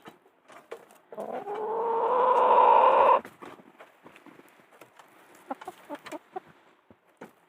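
Laying hens pecking at fallen apples in a backyard flock: one bird lets out a long, rising, drawn-out call, followed by scattered short clucks and small scratching taps.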